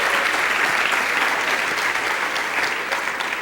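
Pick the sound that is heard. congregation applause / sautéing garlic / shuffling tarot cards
congregation applause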